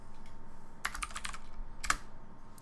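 Typing on a computer keyboard while working in a terminal on Ubuntu 22.04, two quick bursts of close key clicks separated by a quiet pause over faint room hum.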